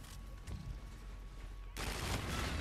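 Rapid automatic gunfire from the Claw weapon crackles in a Call of Duty: Infinite Warfare multiplayer match, steady at first and then surging louder near the end.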